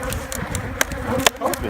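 Honey bees buzz around an open hive box, a steady insect hum with several sharp close knocks and clicks breaking through.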